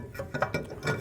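A parking brake shoe adjuster on a 2012-2014 Ford F-150 is turned by hand, giving a short run of soft ratcheting clicks, close and fairly quiet, with no talking.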